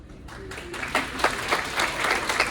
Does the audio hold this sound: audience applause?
yes